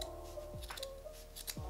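Scissors trimming the excess fabric from the zigzag-stitched raw edges of a dress sewn from a bedsheet, a few quick, crisp close snips in a quiet room.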